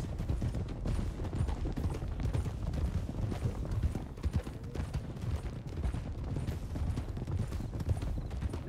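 Horses trotting in the video game Red Dead Redemption II, a steady dense clatter of hooves from several horses under continuous outdoor game ambience, with no talk.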